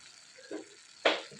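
Pieces of bottle gourd (anapakaya) frying in a pan, with two short sizzling bursts as the pieces are stirred, the second louder and brighter, close by.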